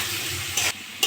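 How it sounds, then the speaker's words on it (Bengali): Potatoes seasoned with salt and turmeric fry in a pan under a steady close sizzle, broken by two short scraping stirs of a spatula. "আলুটা ভালো করে ভাজা ভাজা করে নিয়েছি।"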